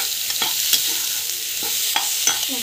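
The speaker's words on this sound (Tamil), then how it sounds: "டொமேட்டோ வந்து ஆட் பண்ணிக்கலாம். நல்லா வந்து வதக்கிக்கலாம்." Tomatoes and greens for green chutney sautéing in a pan, a steady soft sizzle with scattered scraping stirs of a utensil, close and with no voices.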